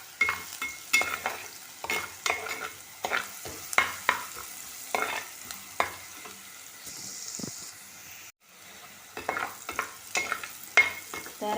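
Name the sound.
onion frying and being stirred in a pan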